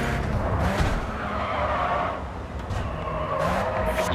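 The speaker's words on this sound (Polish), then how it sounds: "Utrzymując auto w drifcie" Tyres squeal and scrub as a car holds a long drift in the racing game GRID 2, with a loud continuous skid over a revving engine and no speech.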